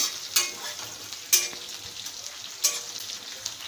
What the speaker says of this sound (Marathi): आपण कांदा घालूया कांदा व्यवस्थित परतून घेऊया आता